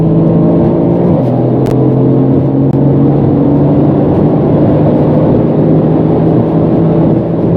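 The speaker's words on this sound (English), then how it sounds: "you can feel at every gear shift, it just accelerates and accelerates" Brabus 600 tuned Mercedes C63 AMG accelerating hard on the Autobahn, a loud steady engine drone from inside the car with a brief gear-change dip and continuous road and wind roar, no voices.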